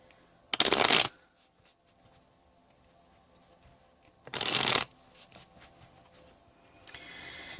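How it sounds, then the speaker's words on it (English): Two brisk riffling bursts of tarot cards being shuffled, separated by a few seconds of quiet room noise. "Let me just shuffle these up a bit,"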